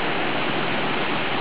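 Stream water flows at Gustavsvik in a short, even burst of rushing, splashing sound, close and continuous, with no voices.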